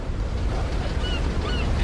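Sea waves surge and wash with a broad, rumbling roar, mixed with wind buffeting the microphone, continuous and fairly close with no speech.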